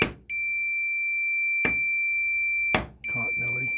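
A continuity tester beeps in steady high tones that cut out briefly when a furnace is tapped, broken by sharp knocks, with a voice starting at the end.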